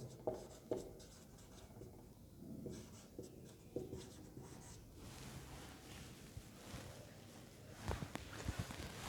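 Pen writing physics notes for a class 10 electricity lesson, faint scratchy strokes and soft taps, very quiet and close, with light handling noise and no talk.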